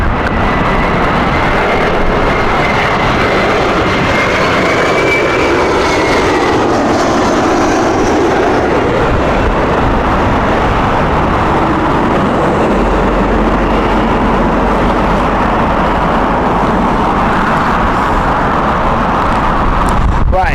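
A Delta Airbus A330 landing at Heathrow in a strong crosswind makes a loud, sustained roar that fills the whole stretch, with a faint whine drifting over the rumble and gusting wind.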